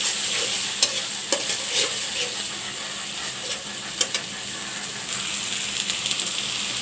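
Spice-rinse water from a grinding stone hits a pan of frying taro stolons and shrimp curry, giving a steady close sizzle with occasional stirring clinks and scrapes.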